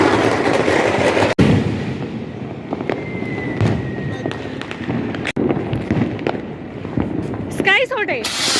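Diwali firecrackers burst in a series of sharp cracks and pops around a neighbourhood in Dehradun, some close and loud, others distant, while people talk over the ongoing crackle.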